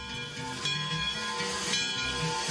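A steam locomotive pulls away through a redwood forest, with a steady chuffing rumble, hissing steam and a metallic ringing tone, loud and continuous for a couple of seconds, with no talk.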